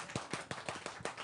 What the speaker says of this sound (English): this case, a successful case, cannot end without our Sinai clap.